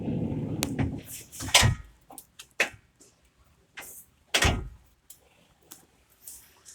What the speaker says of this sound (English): So you have to close the rear door first and open the front door first.